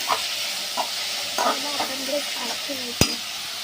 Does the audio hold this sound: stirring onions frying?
yes